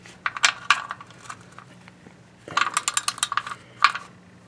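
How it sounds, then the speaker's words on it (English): A wrench is reversed to tighten the oil drain plug on a 2007 Honda Odyssey during an oil change, giving close bursts of quick ratcheting clicks in two main runs separated by a quieter pause. "Let's tighten it. Okay. Just reverse the wrench."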